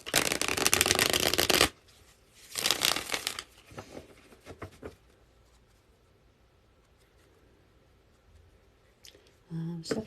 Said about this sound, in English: I'm shuffling for Chandri